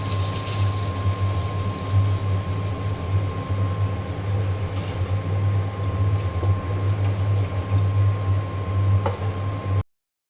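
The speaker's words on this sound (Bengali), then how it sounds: "আমি এখন পানি দিয়ে দেব" Water pours into a pot of cooked chicken curry, a steady, continuous liquid rush and bubbling that lasts about ten seconds over a constant low hum, with no talking.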